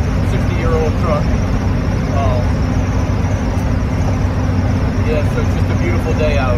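A 1959 Chevy Apache truck, about 60 years old, cruises on an interstate at roughly 60 to 70 mph and 2,000 RPM. Its steady, loud engine and road drone holds unbroken throughout.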